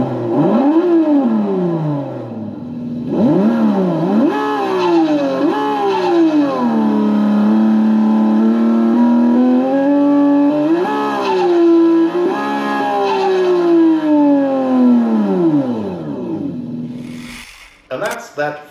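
Simulated engine exhaust from a sound system fitted to a 24-volt ride-on Lamborghini toy car, revving up and down in repeated swells before settling into a loud, sustained roaring drone, with a few clicks at the end.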